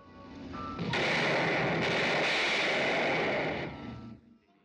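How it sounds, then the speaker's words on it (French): A long burst of loud gunfire from the soundtrack of the 1959 film Breathless, roaring for several seconds, building quickly and fading out, with no talking. "le cinéaste nous fait entendre de véritables coups de feu"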